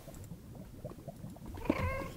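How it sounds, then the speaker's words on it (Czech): A ghast from Minecraft lets out a cat-like crying wail, faint and brief, rising near the end over low background noise. "Ten zvuk vydává ghast, ten kočičí dětský."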